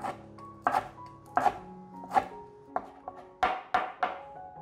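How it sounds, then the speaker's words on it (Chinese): A knife finely chops rolled-up celery leaves on a board, with about eight crisp close chops in an uneven rhythm and no talking. "把芹菜的叶子卷一下，这样子比较好切。 把它切细。"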